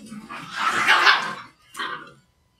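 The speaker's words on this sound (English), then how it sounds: "Jeez, dogs." Dogs bark close by, one long burst of yapping followed by a short second bark, then quiet.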